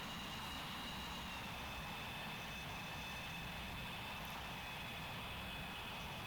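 Jet fighter engine in the Strike Fighters flight game, North Vietnam campaign, coming in on a hot landing approach to an airbase: a steady, loud broadband roar with a thin whine held above it, continuous with no talk.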